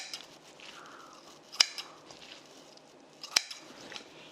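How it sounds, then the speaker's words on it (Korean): Kitchen scissors trim drained, blanched jellyfish for a chilled side dish, giving two sharp, faint snips a couple of seconds apart over quiet room background. "데쳐서 물기를 쪽 뺀 해파리를 너무 긴 거는 한번 가위로 그냥 슬쩍 잘라주세요."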